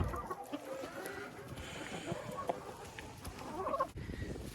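Chickens kept in an enclosure cluck and call steadily at moderate distance, with faint rustling and movement underneath.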